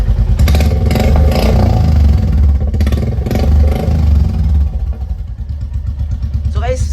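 A Stealth Black Royal Enfield Classic 350 fitted with a short Punjab exhaust thumps along at a low-rpm idle, loud and close, while someone talks over it.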